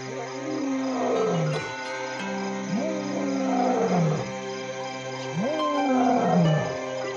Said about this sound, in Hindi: उसकी दहाड़ पूरी रात नियमित अंतराल पर सुनाई देती रहती है।